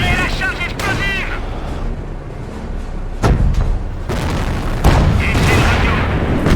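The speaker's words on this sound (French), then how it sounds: "Pointez ce foutu canon sur la cible. Tirez la charge explosive!" An explosive charge fired from a cannon in Company of Heroes, a WWII strategy game set in the liberation of Caen at Hill 112, gives two heavy booming blasts over continuous battlefield noise, with voices early on.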